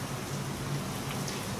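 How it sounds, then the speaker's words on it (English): Steady rain falls outside an open doorway, a soft continuous patter and hiss at low level with no speech. "I hope it's not going to start raining hard again."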